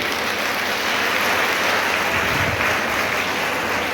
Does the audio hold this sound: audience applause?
yes